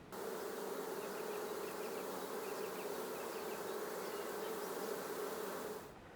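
A honeybee swarm being run into a hive makes a dense, continuous buzzing hum, steady and fairly close throughout, with no talking.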